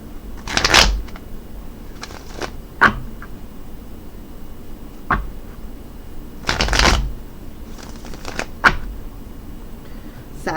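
A deck of cat-themed playing cards being shuffled in quiet surroundings, several distinct riffling bursts spaced a few seconds apart with soft handling clicks between them.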